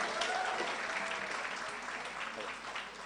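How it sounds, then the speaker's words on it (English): Audience applause at a business SME conference and expo, a steady wash of many hands clapping for a full three seconds at moderate volume with faint voices mixed in. "Ebu, give her a round of applause."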